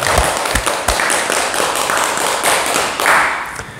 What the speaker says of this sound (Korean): 좋은 질문인데 박수 한번 부탁드립니다.